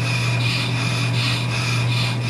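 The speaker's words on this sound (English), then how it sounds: "what I'm attempting to do now is cut that ridge that's on the end of the rotor" A brake lathe hums steadily while cutting the ridge at the edge of a brake rotor, with a constant motor drone under a close, continuous scraping of metal. It is fairly loud, and no one talks.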